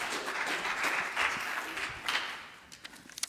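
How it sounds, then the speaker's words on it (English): Church congregation applauding for the band at a Lenten sermon service, a broad wash of clapping that fades out into a few scattered final claps. "Can we give a round of applause,"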